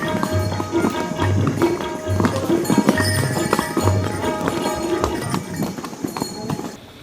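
Hooves of a heavily laden horse carrying a rider on the steep Hemkund Sahib mountain trek clip-clop in a steady, close rhythm, with faint outdoor background noise and no talk.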